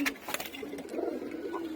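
A stray guest pigeon that settled in a home loft gives soft, close coos, a few short throaty calls over a quiet indoor background.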